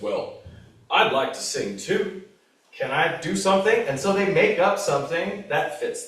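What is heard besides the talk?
None of the usual background noises is heard.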